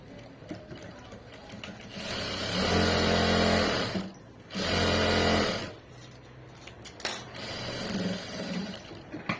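A sewing machine runs close by, stitching a folded seam in two sustained whirring bursts separated by a brief pause. Fabric gets handled in quieter stretches in between, and a voice is faintly present.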